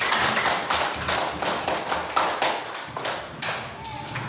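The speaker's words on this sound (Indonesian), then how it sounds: "Tepuk tangan" Classmates in a classroom applaud after a group presentation, a busy, uneven rattle of clapping hands with taps and thuds mixed in that holds at a steady level throughout.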